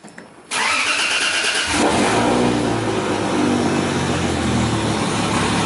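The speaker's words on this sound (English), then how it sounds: "That's a pretty good cold start" Toyota JZ engine in an SC300 drift car cold-starting on a dyno: a brief crank, then it catches with a loud rev and settles into a strong, steady idle.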